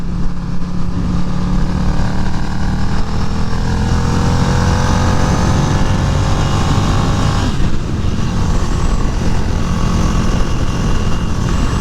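A motorcycle engine drones loud and close while riding, its pitch climbing and then dropping sharply around a gear shift, with steady wind rush throughout and no voices.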